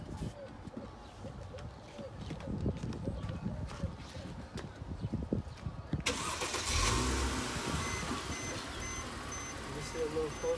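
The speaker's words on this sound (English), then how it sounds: "I have to move the car." A car engine starts and settles into a running idle as the car is about to be moved, heard up close over rustling and handling noise, with voices nearby.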